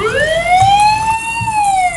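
A siren on an old police car rises and holds a single steady wail with strong harmonics, loud and close, alone with no voices over it.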